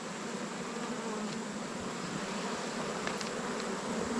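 Honey bees buzzing around an open hive during a honey harvest, a dense continuous hum of many wings close by, with a few louder individual passes and no voices.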